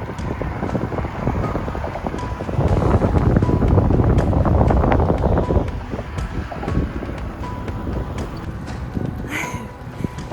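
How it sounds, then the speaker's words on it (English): A strong headwind batters the microphone on a bikepacking ride through Friesland, making a continuous deep roaring rumble that swells loudest midway through and then eases slightly. "I think I underestimated the wind a bit because I got a really strong headwind"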